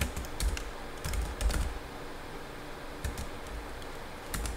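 Keys clatter on a computer keyboard as a command is typed into an MVS 3.8 mainframe terminal. Close, quiet bursts of keystrokes come in several quick clusters separated by brief pauses, with no talking.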